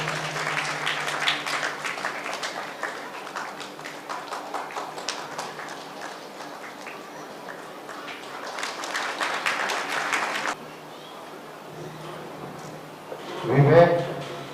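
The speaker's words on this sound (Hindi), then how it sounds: "ताली बजाते रहे अमृता के लिए।" Audience at a church Good Friday event claps for a girl who won a children's race, patchy clapping that swells in bursts and then stops, with a voice speaking over it.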